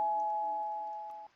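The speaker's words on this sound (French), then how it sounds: "Toujours la petite sonnette." A doorbell chime from the Roblox game Mega Mansion Tycoon gives a single clean electronic tone, held for just over a second and slowly fading before cutting off.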